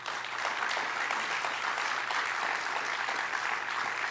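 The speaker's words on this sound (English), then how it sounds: "That's worth a round of applause." An audience applauds at a senior awards ceremony at Cal Maritime, a steady, dense wash of clapping from a crowd that holds at an even level throughout.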